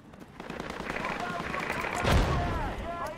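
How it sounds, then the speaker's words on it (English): Mortar fire in a video game during a lighthouse assault sounds as a rumbling, building roar that swells into a heavy boom, while players' voices talk over the battle. "Tell them to stop the mortars."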